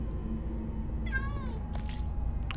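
A cat in the Minecraft Story Mode video game lets out one clear meow midway through, followed by a brief shorter cry, over a low steady background hum.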